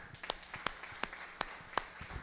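Scattered clapping from a church congregation: a handful of distinct, sharp claps in a loose, uneven rhythm, fairly faint, with little else heard.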